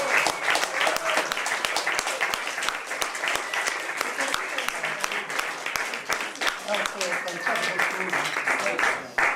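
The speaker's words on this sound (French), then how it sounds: "Allez, un grand applaudissement." A studio audience at a French talk show breaks into sustained applause, many hands clapping in a dense, crisp wash that holds steady for about nine seconds, with voices mixed in underneath.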